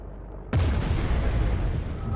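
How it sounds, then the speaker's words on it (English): A heavy cannon in Battlefield Vietnam fires once with a sudden loud boom after a short lull, then a long rumbling roar and reverberation that fills the rest of the moment, no speech. "Now we've got some heavy cannons here."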